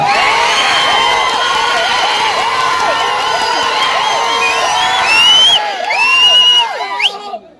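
A dense crowd of supporters at a Telugu Desam Party political rally shouts and cheers loudly and continuously, with whistles and whoops rising over the roar before it fades out.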